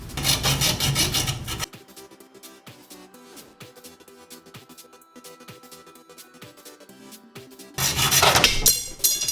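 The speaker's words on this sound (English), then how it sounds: "we're gonna cut one of the fiberglass highway markers right in half" A fiberglass highway marker being sawn in half by hand, heard as a run of quick, regular rasping strokes, with louder, harsher scraping noise at the start and the end.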